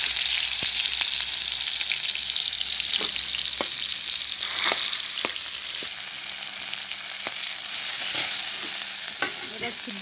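Tomatoes sizzle steadily in a hot pan after a pinch of panch phoron, a broad crackling hiss running throughout with scattered sharp pops and a few light stirring knocks.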